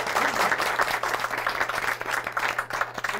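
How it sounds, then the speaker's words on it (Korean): An audience applauds MCs at a Korean CEO talk event on crowdfunding, the steady clapping of a room full of people filling the moment with no voices over it. "오늘 수고해주신 MC 분들한테 박수 부탁드리겠습니다"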